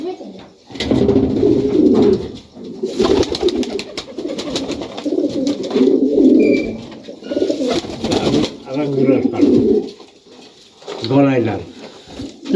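Highflyer pigeons in a Rajshahi loft coo loudly and close by in throaty, rolling bursts, with a person talking in between.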